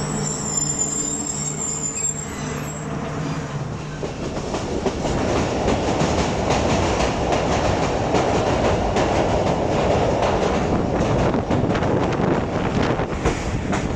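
The Fareed Express, a private train running from Lahore to Karachi in rain, rolls along the rails with loud continuous rumble, wheel squeal and clatter, and wind buffeting the microphone; early high whining tones fade as the noise builds.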